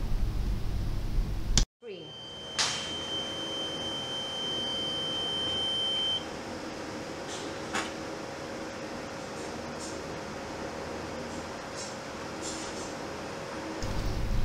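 An oil mist detector alarm on a detector head unit being repaired sounds a steady electronic beep tone for a few seconds, with a constant hum and a few faint clicks in the background.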